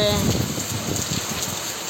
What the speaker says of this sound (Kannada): ಇವಾಗ ಮಳೆ ಬೇರೆ ಬರ್ತಾ ಇದೆ ನೋಡ್ರಿ, ತಂಪಾಗ್ಬಿಡ್ತು ವಾತಾವರಣ.